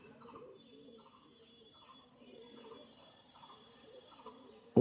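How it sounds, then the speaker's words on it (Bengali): Flair pigeons coo in soft, evenly repeated rolling phrases close by, fairly quiet, with faint chirps in the background. "এগুলো হচ্ছে ফ্লেয়ার কবুতর, মাশাল্লাহ।"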